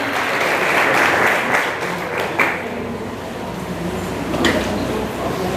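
An outdoor seminar crowd on agroforestry in Riacho de Santana, Bahia, claps steadily for the organisers, a continuous moderate wash of applause with a few sharper claps, fading slightly over time.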